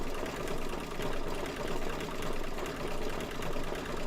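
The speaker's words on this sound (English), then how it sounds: "I'm gonna finish stitching this fussy cut and then call it, because I'm 24 minutes into a 52-minute stitch out" Embroidery machine stitching an in-the-hoop quilt block: a steady, dense mechanical whirring with a rapid needle rhythm and a gentle periodic swell, continuous and close with no talking.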